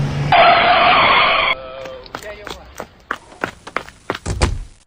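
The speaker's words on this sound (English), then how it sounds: "That bus just crushed him." A bus skids with a long, loud tire screech that cuts off abruptly, followed by a scatter of thuds and impacts of varying loudness as it strikes a person.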